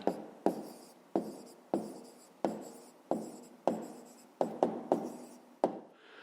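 Handwriting an answer to a fifth-grade math exercise on rectangles and squares: about a dozen crisp, evenly spaced pen or chalk strokes, close and clear, each tapping down and scratching briefly, with no voices.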